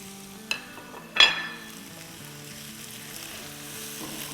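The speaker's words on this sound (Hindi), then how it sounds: "इनको मिक्स कर लेंगे अच्छे से।" Crushed chillies and spices stirred in a hot pan while making aloo laccha bread, giving a steady low sizzle with two sharper scraping clinks of the spoon early on, no talking.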